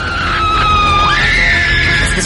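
A loud, sustained shrill scream from a monster movie, high and wavering with sweeping pitch, over a dense rumbling background.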